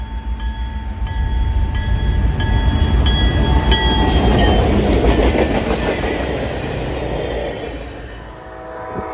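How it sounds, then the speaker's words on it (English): A northbound geometry train led by GP40-2LW locomotive number 4791 rolls past close by, loud and steady, with rhythmic wheel clatter, rumble and high squealing tones, swelling then easing slightly toward the end. "we were surprised to catch the northbound geometry train with"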